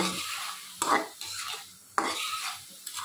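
A spoon stirs a pasta mixture in a home-kitchen pan, giving three or four distinct scraping sweeps with metallic clinks, close and clear, each followed by a faint sizzle.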